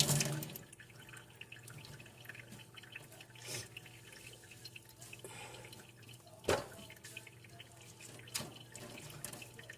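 Water dripping and splashing into a sink as a wet U-part wig is wrung out, with a few scattered drops and small splashes over a quiet, running-water background.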